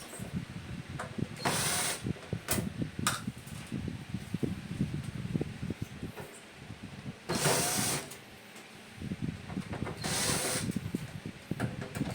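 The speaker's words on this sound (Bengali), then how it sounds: "নাটগুলো সবার প্রথমে আমরা খুলে নেব" A power tool removing nuts from an amplifier cabinet, with a steady mechanical whirring and rattling, broken by three louder bursts of high-pitched spinning, close and without speech.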